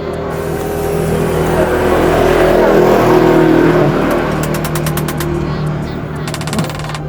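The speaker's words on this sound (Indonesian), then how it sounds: "banyak motor lalu lalang sini karena jalurnya juga rame" Motorbikes stream past on a busy road beside a roadside stall, making a continuous loud engine roar that swells and eases as bikes pass close by, with a sharp buzzing rev near the end.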